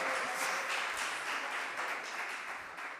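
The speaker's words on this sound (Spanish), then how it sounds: "Vamos a dar un aplauso a Susana," A church congregation applauds a pastor as she is welcomed, a steady wash of many hands clapping that fades slightly toward the end, with no voices standing out.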